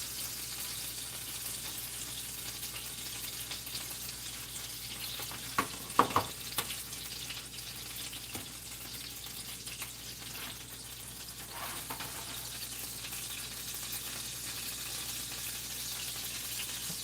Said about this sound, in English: it's hot and it's sizzling.